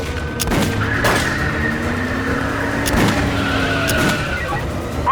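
A car skids with squealing tires during a police chase, loud and close, with sharp impacts or shot-like bangs cutting through the engine and tire noise.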